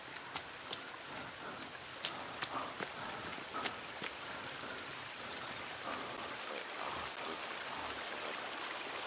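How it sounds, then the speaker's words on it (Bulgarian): Water flows steadily in a forest as a constant soft rushing wash, with a few sharp clicks and taps scattered over it early on. "Това е вода."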